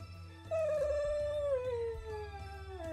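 A dog howls noisily up close, one drawn-out wavering cry that slowly falls in pitch, ringing with strong overtones over a low background hum.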